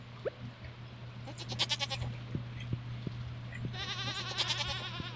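Goats on a Stardew Valley farm bleat in short, wavering bursts, two or three calls spaced apart over a steady low hum and soft ticks, fairly faint and with no talk.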